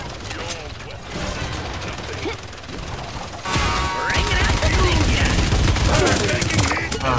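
Rapid gunfire bursts from the video game Paladins, a loud dense clatter that intensifies midway and runs continuously under busy game effects, with a player talking over it.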